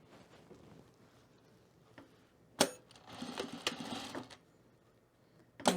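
A sewing machine runs in short bursts while stitching the seam of a hedgehog plush toy, a brief loud whir near the middle preceded by quieter handling clicks and a sharp knock at the end.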